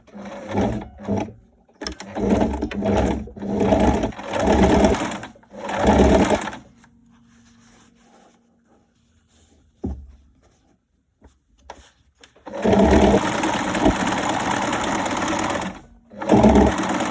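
A sewing machine runs in repeated rhythmic bursts while sewing a dress, falls into a long quiet stretch with faint handling noises, then starts again in loud, sustained runs.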